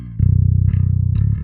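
Distorted bass crunch tone from the Parallax X plugin, a thick buzzing low note played in a few short repeated strums, loud and close, alone with no talk.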